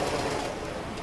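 A sewing machine runs in a steady fast whir while backstitching fabric for a pouch, close and continuous with no pauses.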